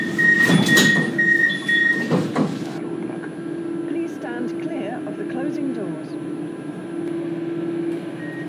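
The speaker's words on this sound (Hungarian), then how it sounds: "Please stand clear of the closing doors." In the OpenBVE simulator, doors on a Budapest M3 metro train close with a brief hiss and thud over a door-warning chime, then the carriage hums steadily while an announcement voice speaks.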